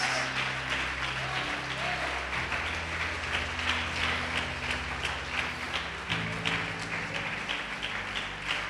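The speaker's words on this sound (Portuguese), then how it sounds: "Vamos aplaudir o Senhor" A church congregation applauding in praise during a worship service, dense continuous clapping with a low sustained organ or keyboard tone underneath, steady throughout.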